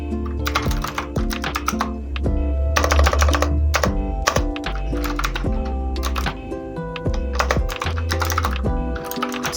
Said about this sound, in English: So we are going to type welcome.